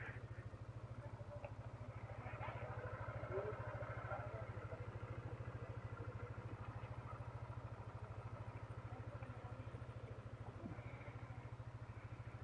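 A motorcycle idles steadily at a gas station, its low engine putter running evenly for the whole stretch, close and unbroken, with faint background clatter.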